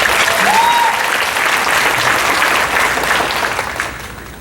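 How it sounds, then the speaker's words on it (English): Gala fundraiser guests applaud after the national anthem, loud sustained clapping from a large audience with a brief whistle early on, tapering off toward the end. "Can you give her another round of applause,"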